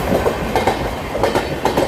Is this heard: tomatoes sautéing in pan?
no